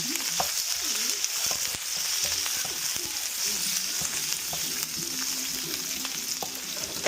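Frozen chicken pieces browning in a hot pan for chicken adobo, a constant bright sizzle with spattering pops and occasional utensil knocks, a faint voice now and then underneath.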